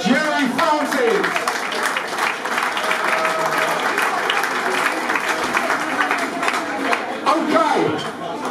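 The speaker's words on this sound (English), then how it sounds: "Massive round of applause, Gerry Francis." A charity auction audience at a football testimonial event claps steadily for several seconds, a full room of applause with some cheering, while voices talk over it.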